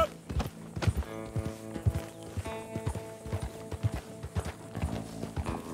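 Horse hooves clip-clop at a steady walking rhythm, close and clear, with a faint musical drone underneath, in the video game Red Dead Redemption 2.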